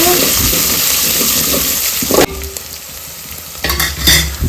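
Chopped onions hitting hot oil already seasoned with curry leaves, bay leaf and cumin, a loud close sizzle that breaks off sharply and then flares again in a burst as the pan is stirred.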